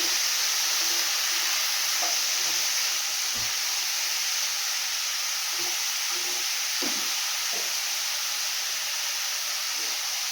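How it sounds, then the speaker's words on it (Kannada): A vegetable palya fries deep in oil with a steady, bright sizzle and hiss, close and continuous, broken by occasional soft stirring clinks, with no talking. "ಇದು ಸ್ವಲ್ಪ ಆಯಿಲ್ಗೆ ಎಣ್ಣೆಯಲ್ಲಿ ಫ್ರೈ ಮಾಡ್ಕೊಳ್ಳೋಣ ಡೀಪಾಗಿ"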